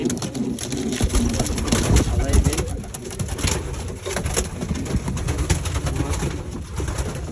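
Pigeons in a loft coo steadily and loudly, a continuous murmuring chorus with flutters and rustles, close by and dense throughout.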